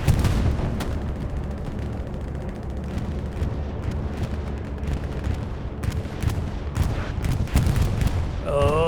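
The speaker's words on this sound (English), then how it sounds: "The bombing run's gonna just miss the airhead by a few seconds" Explosions from a bombing run in the World War II shooter Hell Let Loose on Omaha Beach, a dense, continuous roar of heavy blasts and gunfire thudding over one another without pause.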